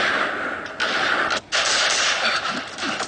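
Pistol fire at a practical shooting match comes as dense, sharp shots and mechanical clatter that fill the clip almost without pause, with one brief gap midway and no talk.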